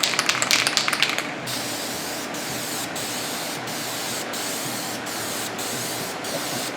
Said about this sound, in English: we're going to shoot the red. So here we go. Alright guys, first coat.